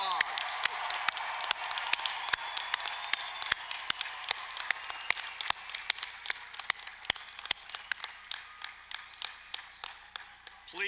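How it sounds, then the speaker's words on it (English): Scattered, individually distinct claps ring out in a large space as a crowd applauds a graduating university class at commencement, fairly faint and uneven. "One more round of applause."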